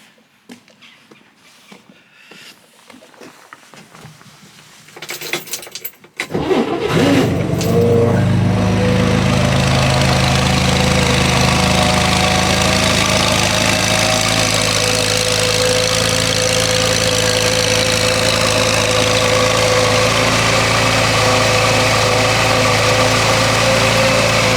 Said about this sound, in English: Rebuilt engine is just spot on.